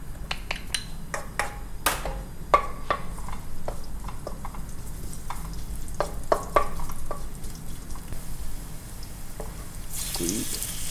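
Garlic sizzles in hot oil in a pan while being stirred, giving a steady frying hiss under sharp clicks of a utensil against the pan, close and moderately loud.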